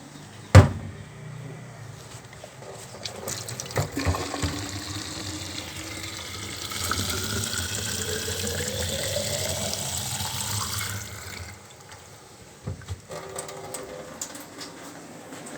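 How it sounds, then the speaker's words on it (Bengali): Tap water runs from a faucet into a cooking pot in a steady rushing stream for several seconds. A clunk sounds near the start, and the pitch rises as the pot fills before the flow stops. "সাপ্লাই পানি দিয়ে দিচ্ছি।"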